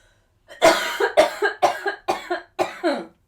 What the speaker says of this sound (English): have to cough.